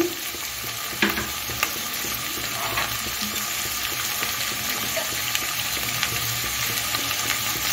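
Mixed vegetables with carrots, beans, capsicum and peas sizzle steadily in hot oil, a continuous close frying hiss broken by occasional stirring scrapes and clatters.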